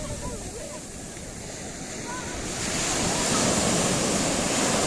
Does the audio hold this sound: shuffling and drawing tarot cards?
no